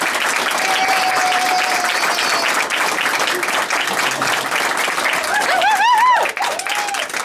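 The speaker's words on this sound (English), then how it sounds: "a warm round of applause for our next Congresswoman" Sustained applause from an audience at a Democratic unity event fills the room for several seconds, a dense and steady roar of clapping with a few voices and whoops rising near the end.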